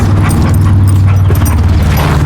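Small dogs whimper and yip close by in a dense, continuous, loud mix of high whines and short cries with no talking.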